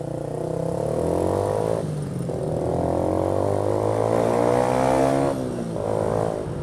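A motorcycle engine revs up while accelerating to overtake, its harmonic whine climbing in pitch in two rising sweeps with a brief dip between, loud and close.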